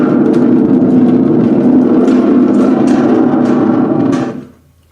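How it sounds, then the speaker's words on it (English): A thunder drum, a spring drum, is shaken close to a microphone and gives a loud, continuous rumbling roar. The roar cuts off abruptly near the end. "We call that beautiful thing a thunder drum."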